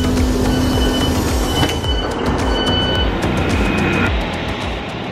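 A train rolls into a station in northern England, loud and close, with rumbling wheels, high squeals of brakes, and rhythmic clacking that slows as it comes to a stop.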